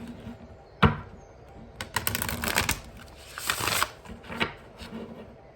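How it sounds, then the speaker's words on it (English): Oracle cards being shuffled by hand in a few rustling, papery bursts, with a sharp tap near the start and quiet pauses between. "let me give these a little bit of a shuffle here"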